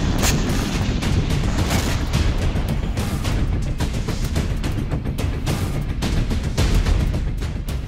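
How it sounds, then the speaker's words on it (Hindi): North Korean missile tests, heard as dense, loud booms and blasts rolling one after another without a break. "मिसाइलों के तनादन धमाकों की गूंज पड़ोसी देश दक्षिण कोरिया तक सुनाई दे रही है।"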